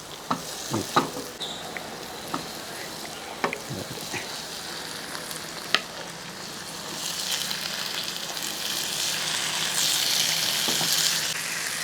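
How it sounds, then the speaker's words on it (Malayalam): Fish frying in a pan of masala gravy, a steady sizzle with occasional stirring taps and clinks that grows to a louder, fuller hiss toward the end, with no one speaking. "നമ്മൾ ഈ വാർത്ത് വെച്ചിരിക്കുന്ന മീനെ ഒന്നുകൂടെ ഈ ഗ്രേവിക്കകത്തോട്ടിടുക"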